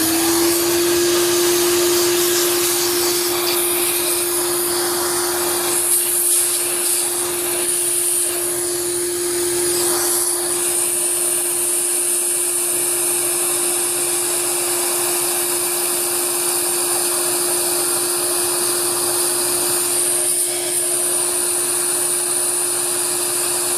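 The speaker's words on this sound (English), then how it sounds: "I'll get the vacuum here." A vacuum cleaner clears chips after CNC milling of Micarta knife handles on an aluminum fixture, giving a loud, steady motor whine and rushing air that runs without break throughout, with no talking.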